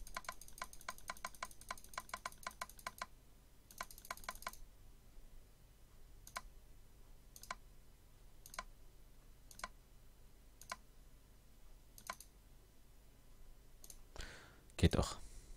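Computer mouse and keyboard clicking during a Minecraft Feed The Beast session: rapid bursts of crisp clicks at the start, then sparse single clicks spaced a second or so apart, ending in a short louder clatter, all close and fairly quiet.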